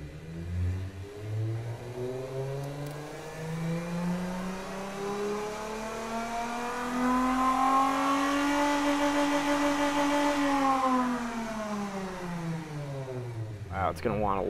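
Simulated Chevy 4.3L Vortec V6 with individual throttle bodies revving on a dyno in the Automation game, a loud engine tone climbing steadily in pitch, holding high, then falling away at the end, with a person talking over it.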